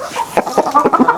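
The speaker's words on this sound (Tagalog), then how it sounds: "Ito yung tandang dito." A Rhode Island Red rooster clucks close and loud in a quick burst of short, throaty notes.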